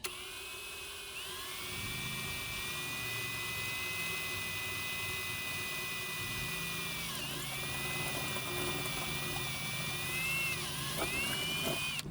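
A power drill whines steadily for several seconds, its pitch dipping twice as the bit bites into material, with a low motor rumble underneath.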